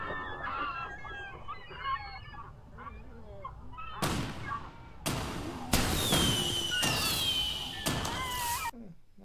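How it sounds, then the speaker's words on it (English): Fireworks sound effect from a video editor's Halloween-themed sound library, several loud sharp bangs and crackles, preceded by honking bird calls, no voices. "Not very long fireworks."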